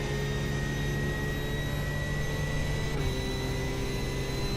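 A GT3 race car engine in the iRacing sim drones at high, steady revs with a constant tonal whine, loud and continuous, holding one pitch before a brief shift partway through.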